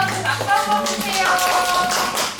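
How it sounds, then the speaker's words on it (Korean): A church congregation at a Sunday service claps for the friends in a short burst of applause, fairly close and loud, with a voice speaking over it. "박수 한번 주세요"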